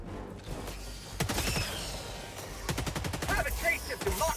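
The Sickle energy weapon fires at Terminids in the Helldivers 2 video game, letting out rapid bursts of sharp zapping shots after a short start-up, with mechanical clicks and whooshes in between.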